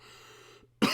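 A single short, loud cough or throat-clear bursts out close to the mic after a quiet pause.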